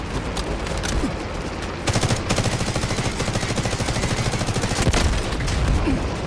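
Rapid bursts of automatic gunfire in the Delta Force video game during a raid mission, dense overlapping shots that grow louder midway with sharp single cracks, close and continuous with almost no talk.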